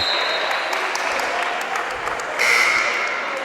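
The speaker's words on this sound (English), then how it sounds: "Veal standing ovation from the crowd and the bench" Crowd and bench at a men's college basketball game between JWU and Warren Wilson applauding a departing player in a standing ovation, steady clapping and cheering that swells louder near the end, no clear talk over it.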